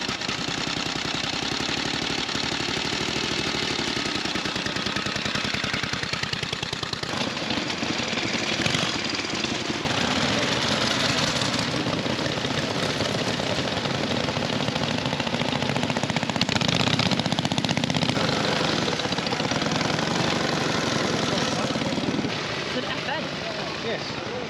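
Pre-1919 veteran motorcycles at a rally near Bundaberg start up and idle together, a dense, continuous rattling and thumping engine clatter that stays loud and steady throughout, with some surges and possible voices mixed underneath.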